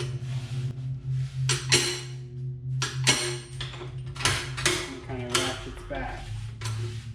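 A jack handle cranks a second-hand hoop-making tool with repeated metallic clanks and clicks at uneven intervals. A low steady hum runs underneath.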